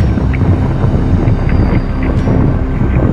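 Strong sea wind buffets the microphone aboard a small fishing boat on rough water, a loud, continuous roar with low rumbling gusts and no talking.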